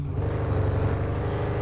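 A car engine running while driving, a steady low rumble and drone heard close inside the vehicle, alone without talk.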